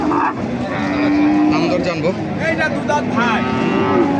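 Cattle at a busy rural cow market low and moo repeatedly, the calls loud and near, with someone speaking briefly amid the livestock.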